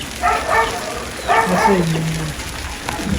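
A dog barks a few times at close range, sharp yelps spaced across a couple of seconds over a noisy background.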